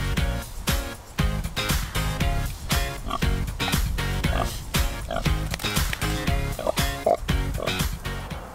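A farm pig wallowing in a mud bath on a hot day grunts in a rapid, uneven series of close, loud snorts and oinks, alone without talk.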